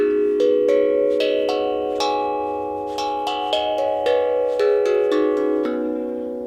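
Double-sided glucophone steel tongue drum in a forest design, its scale played note by note starting from the bass tongue, clear bell-like tones ringing and overlapping at a steady unhurried pace with no talking.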